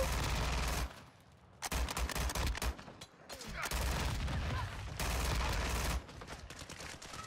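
Pistol and other gunfire in Call of Duty Modern Warfare II, loud repeated bursts of shots with short gaps between them, dense game sound throughout.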